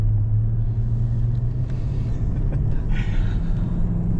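A Land Rover engine labours steadily up a steep mountain road in Tasmania, producing a continuous low rumble with a droning hum throughout and no voices.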